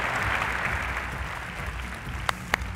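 Audience applause at the LiveWorx 18 technology conference award ceremony, a steady dense wash of clapping through the whole stretch, fairly loud, with a couple of sharper individual claps near the end and no talking over it.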